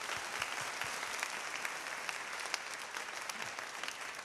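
A congregation at an evening Proskuneo worship and prayer workshop breaks into steady, sustained applause, a dense wash of clapping hands filling the hall with no voices over it.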